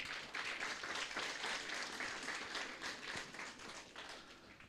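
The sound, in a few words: church congregation applause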